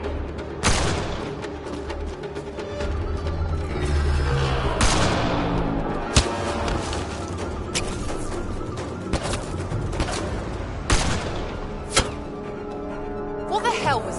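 Heavy gunfire from the Mass Effect Andromeda video game, with repeated sharp shots and bursts over a steady battle din, several loud cracks standing out, while voices shout over the fighting.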